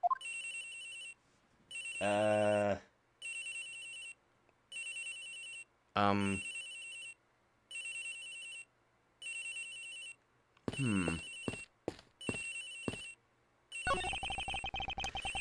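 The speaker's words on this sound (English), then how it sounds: "Agent Hicks' phone! It's ringing from somewhere, sir" A phone rings in Ace Attorney Investigations: Miles Edgeworth, with regular electronic ring bursts separated by brief silences and broken up by a few short voiced game blips.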